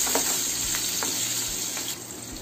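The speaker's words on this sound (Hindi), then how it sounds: "इसको मीडियम आंच में अच्छे से भून लेते हैं।" Okra frying with gram flour in a pan over medium heat, a loud continuous sizzle with a few soft stirring knocks.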